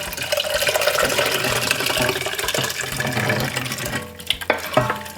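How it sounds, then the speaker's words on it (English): Beer mixture poured into a pot of beer cheese sauce, a steady liquid pour with bubbling and stirring, close and fairly loud, ending in a few clinks and splashes. "Now very carefully, we're gonna pour in our beer mixture."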